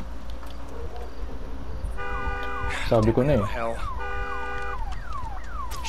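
A car alarm goes off in the zombie survival game Days Gone, a repeating electronic wail that starts midway and continues over steady background rumble, with someone talking over it.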